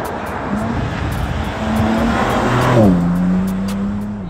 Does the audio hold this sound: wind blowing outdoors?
no